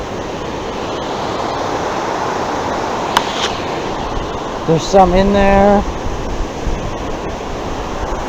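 Broad steady rush of a salmon and steelhead river flowing close by, constant and loud, with someone talking briefly over it partway through.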